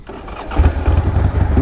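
A 1983 Harley-Davidson XLH Ironhead motorcycle engine cold-starts on choke, cranking and catching, rumbling loudly up close into a rough, pulsing idle right after starting.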